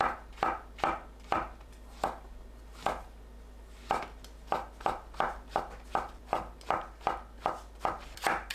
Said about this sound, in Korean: 새송이 버섯을 무와 비슷하거나 무보다 조금 두툼하게 채 썰어주세요